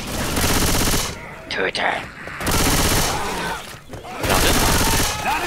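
Sustained minigun fire in Left 4 Dead 2, loud dense bursts in three long stretches separated by short pauses, with a voice shouting briefly during a gap.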